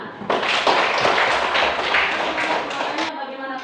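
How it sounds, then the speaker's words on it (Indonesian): Applause from a class during a school lesson: a dense, steady wash of clapping that fills the whole stretch at moderate loudness and cuts off near the end. "Tepuk tangan."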